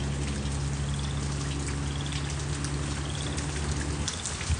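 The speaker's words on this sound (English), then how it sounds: "so I'm hearing all this water." Heavy rain pours steadily during Texas flooding, a dense continuous hiss of water with a low rumble underneath and no voices.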